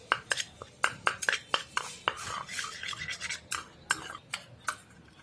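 Sandalwood face powder is stirred and mixed in a small container with quick, sharp scraping taps in an irregular rhythm, close by and moderately loud.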